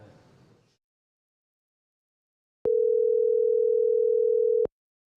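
A single steady electronic phone tone during a call, about two seconds long and loud, coming after a short bit of faint talk and then silence.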